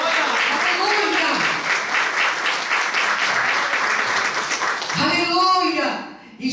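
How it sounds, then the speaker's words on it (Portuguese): A church congregation claps in sustained, dense applause throughout the service, with a voice rising over the clapping near the end. "Dá uma salva de palmas ao Senhor."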